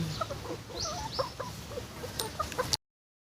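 Laying hens cluck and chirp steadily at a farm, several birds calling at close to moderate distance with a soft background hum and no talking.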